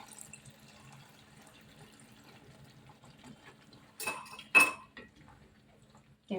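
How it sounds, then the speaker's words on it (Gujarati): After a quiet stretch, a small glass of water splashes briefly into a pan of whole potatoes in oil in two quick bursts, with faint clinks of cookware. "હવે આપણે આમાં થોડુંક પાણી એડ કરી દઈશું"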